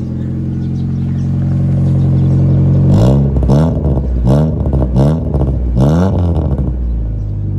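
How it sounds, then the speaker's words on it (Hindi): A 1997 Honda Civic automatic's engine idles steadily, then is revved hard five times in quick bursts, each rising and falling back, loud and close with a faint exhaust rasp. "गाड़ी को रेस दें अंदर से, एक्सीलेटर दें गाड़ी को।"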